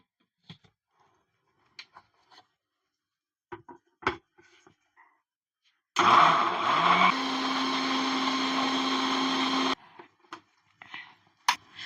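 A mixer grinder blending watermelon whirs loudly for about four seconds in the middle, bracketed by light clicks and knocks of the jar before and after.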